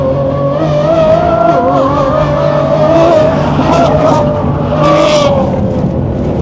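A Lamborghini Revuelto 6.5-litre V12 hybrid accelerates loudly around a race track corner, its engine note rising and shifting through gears, close and continuous, with faint tire squeal.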